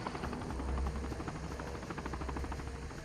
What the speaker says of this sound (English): Here's a helicopter.